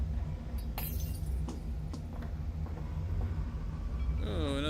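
Glass shot glass and beer bottles clinking in the Half-Life: Alyx VR game, a few sharp scattered chinks and taps over a low background hum, ending with a brief warbling tone.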